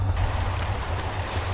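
Steady rushing flow of a river current in Tomb Raider (1996), a continuous low rumble with broad wash, close and even throughout without pause.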